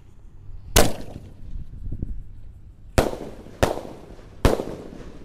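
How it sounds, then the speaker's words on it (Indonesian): Basoka Roman candle fireworks launch in sharp, loud bursts: one pop, a pause, then three evenly spaced shots, with faint background noise between them. "Sudah menyala, guys. Triple boom siap meluncur."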